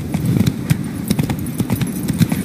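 Horse hooves clip-clop in a steady trotting rhythm while riding in The Witcher 3, loud and close with regular repeated strikes and no talk over them.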